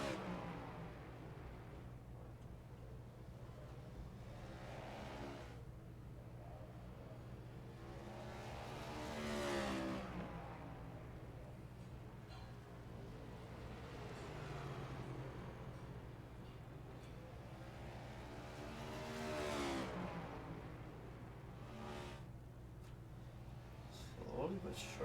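Stock race car engines in a Cup Series racing video game roar past in repeated swells over a steady low hum, each car rising and fading while a commentator talks throughout.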